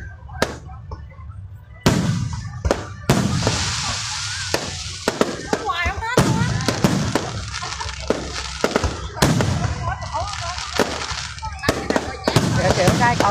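Fireworks burst at Ba Den Mountain in Tay Ninh, Vietnam, in a string of loud, sharp bangs, some close together and some spaced apart, with a crowd's voices between the blasts.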